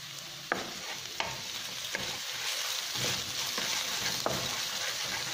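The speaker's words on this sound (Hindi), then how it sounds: "अभी देखिए हमारा जो लहसुन और प्याज है वो फ्राई हो गया" Steady frying sizzle of garlic and onion in a pan with a few sharp stirring scrapes at intervals, fairly close and continuous throughout, with no talking.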